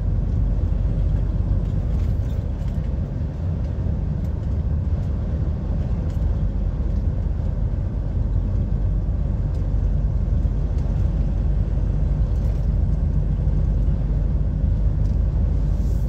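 A heavy goods vehicle's engine drones at a constant, deep pitch while it drives along a rural Cumbrian road, with steady low rumble and road noise from inside the cab and no talking.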